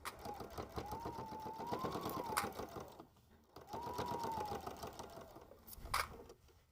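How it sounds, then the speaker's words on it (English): A sewing machine runs a quarter-inch seam down the side of a pillow with a ruffle, humming steadily at close range in two bursts separated by a short pause, with light mechanical clicks. "I'm gonna take this over to the machine and sew 1/4 of an inch down that side."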